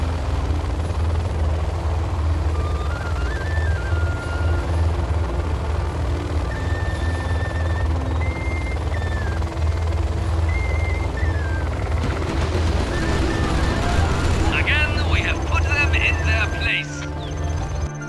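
Helix helicopter flyby in the video game C&C Zero Hour, a steady rotor drone throughout with game voices and whistling tones over it, ending in a burst of effects.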